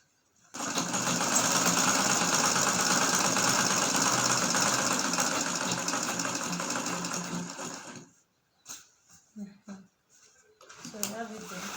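A sewing machine stitches iro and buba fabric in a steady, loud run of about eight seconds, then stops, followed by a few brief handling noises and soft voices.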